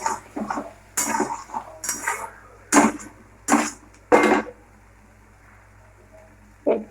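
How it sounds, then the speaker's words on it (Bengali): Pointed gourd is stirred in a cooking pan, with a series of sharp, irregular scraping knocks of a utensil against the pan, fairly close and clear, over a quiet low hum. "পটলগুলো দিয়ে একটু নাড়াচাড়া দেবো আমরা।"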